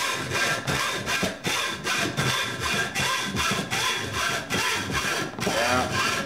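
A saw cuts back and forth through the handle of a Muzzy XD bowfishing reel clamped in a vise, a steady rasping stroke rhythm that is close, loud and continuous.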